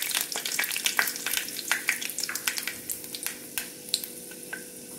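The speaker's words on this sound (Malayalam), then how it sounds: "ഇനി നമുക്കിതിലേക്ക് ഒരു 1/2 ടീസ്പൂൺ ഉലുവ ചേർത്ത് കൊടുക്കാം." Fenugreek seeds fry in hot oil for a beetroot pickle, giving a steady close crackle scattered with sharp pops and clicks throughout, with no voices.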